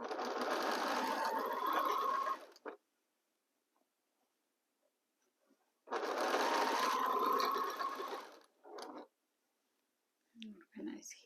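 Sewing machine stitching two fabric pieces together at a seam, running in two steady whirring bursts of a couple of seconds each with quiet pauses between, close and clear, plus faint handling clicks at the end.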